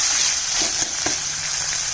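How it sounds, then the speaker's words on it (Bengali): Tomatoes fry in a pan with browned onion paste, giving a steady hiss and sizzle throughout with a few faint stirring clicks and no talking. "টমেটোটা যতক্ষণ কাঁচা গন্ধ থাকবে একটু ভেজে নেব"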